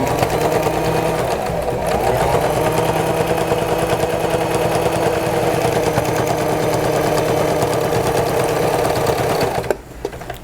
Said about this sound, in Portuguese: com o pezinho de máquina, costura reta aqui para segurar esse bolso ao fundo e a manta